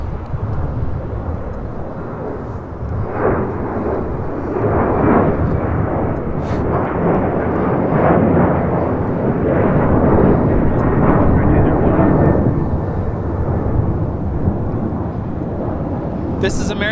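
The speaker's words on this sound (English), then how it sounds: "This is American 539 taking off to Austin on a 737-800." An American Airlines Boeing 737-800 takes off at LAX with a loud, sustained jet roar that swells and rumbles, while people talk over it.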